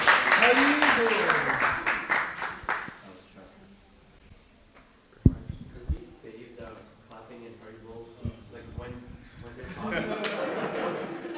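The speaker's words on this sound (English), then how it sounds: "don't clap while they're talking" An audience at a youth gathering in Mayapur claps for a few seconds in a loud burst, which fades out before a person starts talking.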